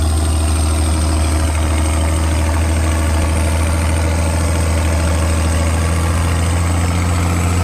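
An old turbocharged tractor engine works steadily in a field pulling an 11-bottom plow, a constant deep droning hum with a strong low rumble and vibration, loud and unbroken with no voices.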